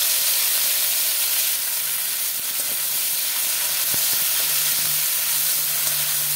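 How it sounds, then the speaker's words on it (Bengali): Chopped onions fry in hot mustard oil with bay leaves, giving a loud, continuous, steady sizzle and hiss with a few faint clinks underneath. "দিয়ে দিলাম কেটে রাখা পেঁয়াজ"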